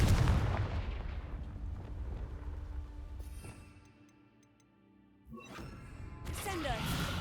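The Confringo fire spell goes off in the Hogwarts Legacy video game as a loud burst at the start, a fading rumble, then another sharp blast near the end, with a voice casting just before.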